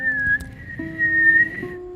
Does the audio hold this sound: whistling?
yes